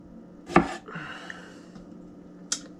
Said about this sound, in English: So we're gonna cut the stems off.